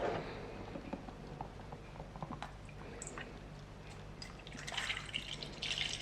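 Milk poured into a bowl on a kitchen scale while measuring 200 grams, heard as dripping and trickling liquid that builds into a fuller, louder pour near the end, close by with no voices.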